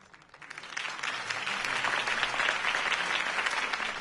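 Crowd applause following a campaign speech in the video game Batman: The Telltale Series, a dense, steady wash of clapping that swells in over the first second and holds at full strength.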